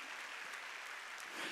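A church congregation at a midweek service claps together, a faint, steady wash of distant applause filling the short moment without distinct individual claps.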